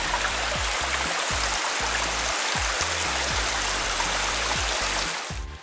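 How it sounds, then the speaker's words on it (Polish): A mountain stream flows beneath a trail near Hala Jaworowa in the Beskids, giving a continuous, close rushing and gurgling of water that runs steadily, with low rhythmic thumps from the walker. "A tutaj pod nami coś płynie. Proszę bardzo. Woda, tego się spodziewałem."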